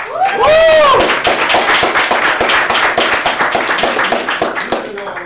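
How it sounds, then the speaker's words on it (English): Audience at a motivational talk clapping, with a voice cheering briefly at the start, then a loud, dense run of hand claps that tapers toward the end. "I want to give him a round of applause."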